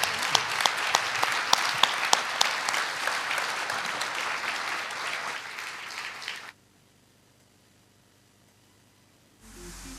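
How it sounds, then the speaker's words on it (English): Audience applause for panelists at an investment and innovation event, a steady crackle of many hands clapping for about six seconds before it cuts off abruptly into near silence, followed by a brief burst of noise at the end. "May I invite you to give a big applause to our panelists?"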